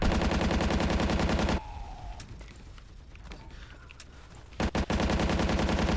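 Loud bursts of automatic gunfire from a video game firefight, a dense sustained stream at the start, a quieter stretch with a few scattered shots and mechanical clicks, then more heavy fire returning near the end.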